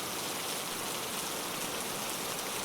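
Heavy rain pours down in a Hindi cartoon story, a dense, constant hiss with no pauses or voices.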